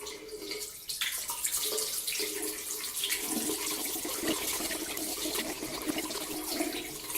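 Water runs steadily from a bathroom tap while waiting for it to turn hot. The close, constant rushing and splashing continues throughout with no voices.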